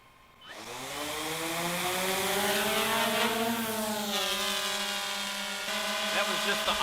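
Autel X-Star Premium quadcopter drone spinning up and lifting off on auto takeoff outdoors, a rising multi-tone whine that climbs in pitch then holds steady, close and loud.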